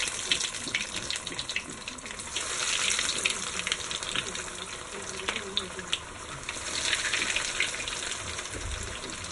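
Kerala-style beef cutlets frying in hot oil give a steady, close hiss and crackle that runs throughout, swelling louder around the third and seventh seconds.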